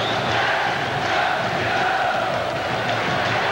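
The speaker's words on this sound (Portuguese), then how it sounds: "O torcedor do Vasco está soltando o grito de é campeão" Vasco supporters at a Carioca 2004 football match roar and chant in celebration. The crowd noise is a dense, steady wall of voices, loud and continuous throughout, with no commentary.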